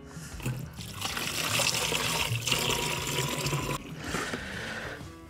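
Clean tap water pours steadily into a pump sprayer, a gallon measured out for mixing with muriatic acid, a continuous close splashing fill that runs for several seconds.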